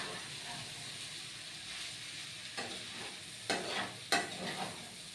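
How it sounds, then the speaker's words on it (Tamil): Pasta is stirred and mixed in a pan over a low flame: a soft, steady sizzle runs underneath, with a few scraping strokes of a spoon against the pan. "வந்து ஸ்டவ்வை ஸ்லோ பண்ணிக்கிட்டு ஒரு 5 மினிட்ஸ் நல்லா மிக்ஸ் பண்ணிவிடுங்க"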